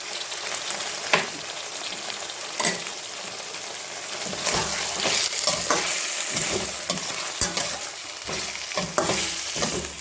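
Chilli chicken sizzling in a pan after soy, chili and tomato sauces are poured in, a steady frying hiss with stirring scrapes and clinks, close and continuous throughout.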